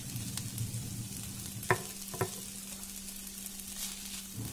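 Groundnut masala with fresh chopped coriander leaves gets mixed in a pan over a soft continuous sizzle, with two distinct spoon knocks against the pan partway through.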